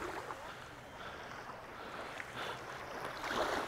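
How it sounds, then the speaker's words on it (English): Beach waves wash and break steadily in continuous broadband surf that swells slightly toward the end, recorded close on a walk along the shore with no talking. "I hope you guys can hear the water"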